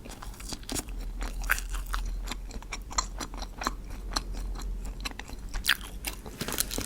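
Bread from Sungsimdang bakery being bitten, torn and chewed up close, with repeated crunchy bites and soft mouth sounds at an irregular rhythm, no talking.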